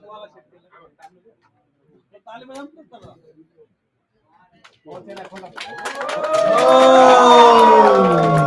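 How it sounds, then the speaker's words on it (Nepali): An audience at a family gathering on stage breaks into applause and cheering, with voices speaking before it. The crowd noise swells near the end into loud, sustained clapping mixed with shouts and whoops. "ठुलो ताली।"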